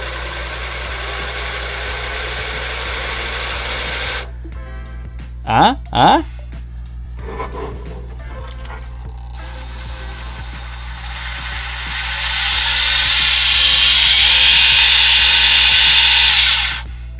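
A small electric motor in a fully 3D printed 1:8 scale Bamboo 4x4 RC truck spins up to high RPM, a loud steady high-pitched whine for several seconds with a brief pause and short bursts partway through.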